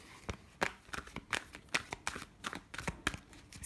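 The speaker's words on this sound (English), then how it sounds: "I'm going to pull one final card here." Tarot cards are handled and pulled from a deck in a quiet room, giving a string of short, crisp papery snaps and slides in an uneven rhythm, close and fairly soft.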